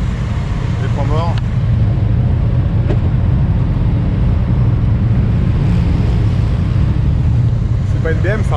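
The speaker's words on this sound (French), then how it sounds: "Ah, le moteur est sympa." A 2024 Honda Goldwing Bagger with DCT transmission rumbles steadily while being ridden, its low engine drone mixed with heavy wind buffeting, and a voice talks briefly over it.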